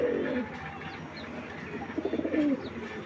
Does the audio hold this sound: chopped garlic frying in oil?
no